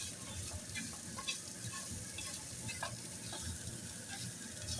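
Food frying in a pan, a continuous close sizzle with faint stirring and scraping sounds, steady in level and without talk.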